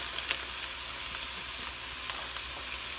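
Steady, close sizzling and crackling of lean ground beef frying in a hot pan, with small pops scattered throughout.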